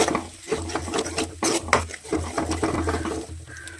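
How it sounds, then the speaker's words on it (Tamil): Frying sizzle from ginger paste sautéing in hot oil with repeated scraping and stirring of a utensil against a pan, close and steady, no talking. "இப்போ நம்ம இஞ்சி பேஸ்ட்டை ஆட் பண்ணிக்கலாம் வதக்கிக்கலாம்"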